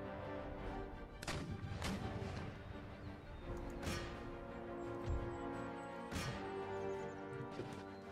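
Gunners pound an infantry square in the video game Empire Total War, firing heavy booming volleys and sharp cracks at irregular intervals over a low battlefield rumble, some shots close and some farther off.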